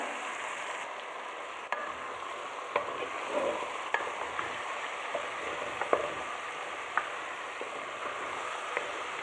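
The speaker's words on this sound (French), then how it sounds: "Il faut toujours remuer pour que ça colle pas." A pot of red lentil soup with carrots, courgette and potato is stirred with a utensil, giving a faint, soft scraping and bubbling with a few sharper clicks against the pot at intervals.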